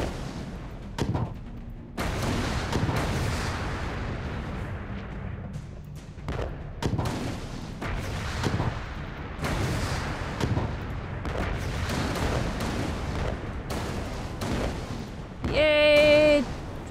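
Gunfire in the video game Alice: Madness Returns, heavy booming shots and cannon-like blasts fired in rapid bursts, loud and close, with an electronic chime near the end.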